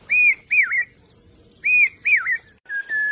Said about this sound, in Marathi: भात शेतीच्या मळ्यावर पावसा पक्षी त्याच्या मधुर स्वरात जणू पेरते व्हा पेरते व्हा